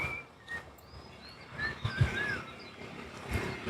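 A man whistles in imitation of a bird call near the Teesta Barrage in Bangladesh, a few thin chirping whistles amid faint outdoor ambience, with quiet rumbles in the background.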